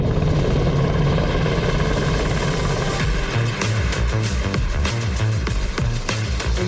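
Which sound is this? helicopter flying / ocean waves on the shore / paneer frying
helicopter flying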